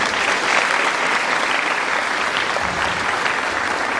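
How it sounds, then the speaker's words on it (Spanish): Audience at a primary school graduation ceremony in Mexico applauds loudly and steadily, a dense wash of clapping with no talk over it. "Recibámoslos con un fuerte aplauso"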